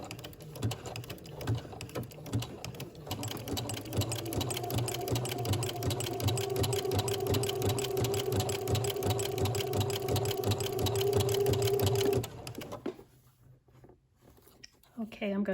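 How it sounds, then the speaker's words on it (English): A sewing machine back stitches and sews a maxi dress sleeve (Simplicity 8874), a steady close-up whirring hum that starts after a few seconds, runs for about nine seconds, then stops into near silence. "Then we're going to move the needle over to the next pin, and we're going to start our sewing back stitch and then sew all the way up to the top of the sleeve."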